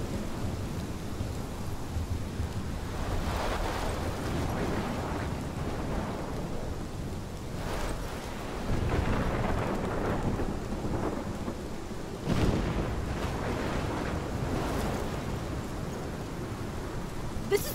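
A thunderstorm in the video game Life Is Strange: heavy steady rain with repeated rolls and cracks of thunder, loud and enveloping, with no talking.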